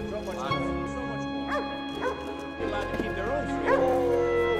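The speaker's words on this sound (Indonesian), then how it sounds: "Seekor anjing di situ yang bernama Alpha Dog tiba-tiba menggonggong" A police dog named Alpha Dog barks in short yipping bursts a few times, heard over constant background music and a low drone.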